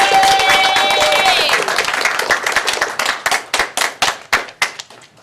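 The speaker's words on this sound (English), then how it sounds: "Let's give one more round of applause for all of them." Audience applause at a school board meeting for staff and student award winners, loud and dense at first, then thinning into scattered, fading individual claps before stopping.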